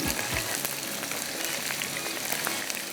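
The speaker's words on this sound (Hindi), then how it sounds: "ये देखिए मछली के पीसेस को इस तरह से हमने फ्राई करना है, क्रिस्पी क्रिस्पी फ्राई होगी" Fish pieces deep-frying until crispy in hot oil, a steady dense sizzle and crackle with scattered pops, heard up close with no talking.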